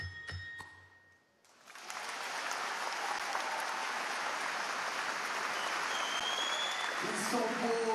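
Applause from an ice show audience for an ice dance pair, starting after a brief quiet gap and swelling into steady, dense clapping that fills the rest of the moment, with a faint voice early on.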